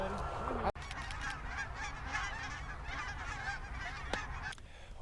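A flock of geese honks continuously at a middle distance over a field set with silhouette decoys during a goose hunt, overlapping calls forming a busy chorus with a couple of sharp clicks or thumps.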